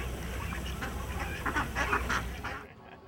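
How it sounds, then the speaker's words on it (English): Ducks quack and honk in a steady, fairly loud chorus at the Great American Duck Races, with no talking, before the sound cuts off sharply at the end. "Now, Miss Betty, how come you're not out there racing with the other duckies?"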